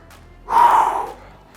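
One deep, close breath after a home fat-burning workout: a single audible rush of air that swells and then fades, with quiet before and after.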